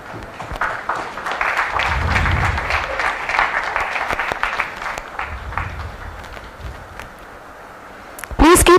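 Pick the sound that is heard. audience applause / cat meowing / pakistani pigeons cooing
audience applause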